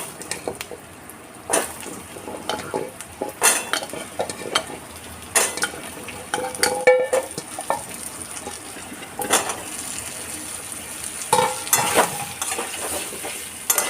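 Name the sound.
potatoes frying and stirred in a wok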